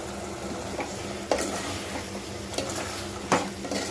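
Spicy chicken fry sizzles in a pan while a spoon stirs it now and then, a steady close-up hiss with a few sharp scraping clinks of utensil against metal.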